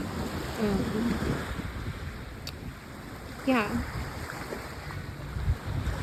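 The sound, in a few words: sea water at the Adriatic Sea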